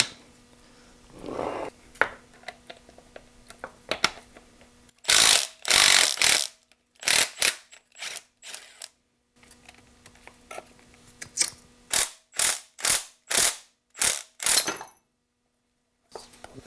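A coil spring compressor is ratcheted on a BMW E91 328xi strut, giving sharp metallic clicks in quick clusters, then a steady run of evenly spaced loud ticks, close up with no speech.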